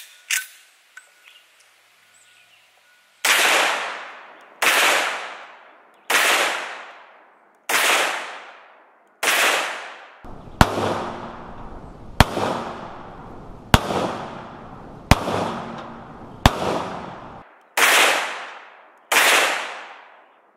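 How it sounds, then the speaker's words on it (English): A .44 Magnum revolver fired at a metal toolbox downrange, about eleven loud sharp reports spaced a second or two apart, some with a ringing metallic clang of the hit, after a few quiet handling clicks. "So first I'm just going to take a few shots at our metal toolbox down range."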